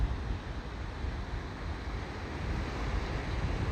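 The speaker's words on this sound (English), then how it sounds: "Got some beautiful waves in the distance." Distant ocean surf breaks on the rocky central California shore at Estero Bluffs State Park, a steady wash of roaring noise mixed with wind on the microphone and no voices.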